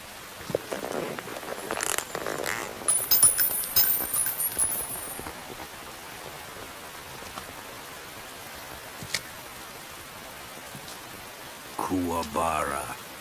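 Rain falls steadily in Metal Gear Solid 3, a soft, low hiss running throughout, with brief louder scuffs and rustles near the start and a short tonal sound near the end.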